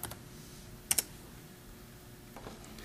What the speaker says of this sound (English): You do this by going to a DOS prompt and typing in